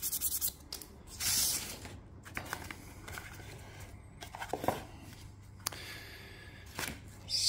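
Micro mesh pad rubbed over a wooden guitar pick, giving soft, close scratchy strokes in irregular bursts with brief pauses between them, quiet overall.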